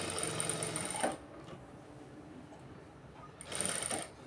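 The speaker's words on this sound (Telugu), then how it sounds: "నేను నిదానంగా కుట్టి చూపిస్తాను" A sewing machine slowly stitching the back lining of a blouse runs in two close, steady bursts separated by a quiet pause in the middle.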